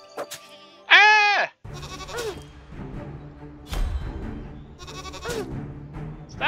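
Loud, wavering goat bleat in the Wild Terra 2 video game, one sharp cry followed by clanks, thuds and softer game noises, with a faint second bleat later.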